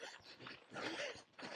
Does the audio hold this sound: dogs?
yes